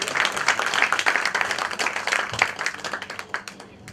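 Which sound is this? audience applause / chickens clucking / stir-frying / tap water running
audience applause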